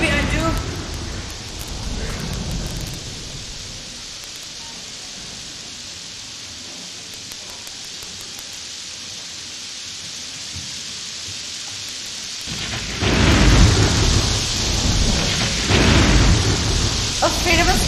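A thunderstorm sound effect plays during a school stage production of The Sound of Music, with rain-like hiss and rumbling thunder that swells into a loud crash near the end, while actors speak over it.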